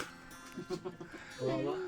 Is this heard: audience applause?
no